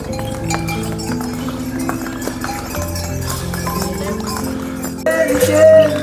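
Horses clip-clop along the mountain trek trail to Tungnath temple, with steady hoof beats mixed with sustained tonal voices or music that grow louder toward the end.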